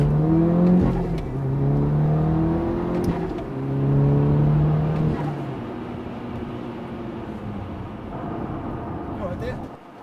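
An Audi S3 accelerates hard, its engine note rising and swelling in waves close by, with people talking over the revving.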